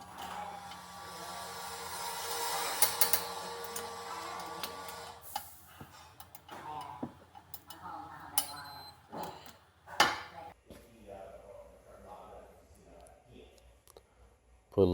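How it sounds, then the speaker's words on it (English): Ratchet wrench tightening the rear brake caliper bracket on a 2015 Subaru Outback 3.6R, heard as a busy run of clicks and metallic ticks at close range, with irregular clanks of tools and parts between them. "Tighten the bracket down to about 47 foot-pounds."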